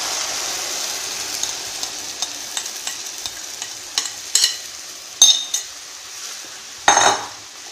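Soft scraping and clinks of a utensil against a pot, with a few sharper taps and wet plops as thick ground horse gram paste is added and stirred.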